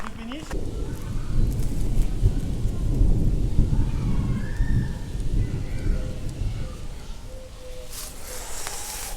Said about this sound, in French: Bon, l'orage commence à arriver et j'ai toujours pas réussi à faire du fish.